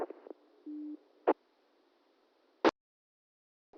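A short, steady electronic tone from a 2-meter amateur radio repeater, about a quarter-second long, sounds once amid brief bursts of radio static and clicks over a quiet background.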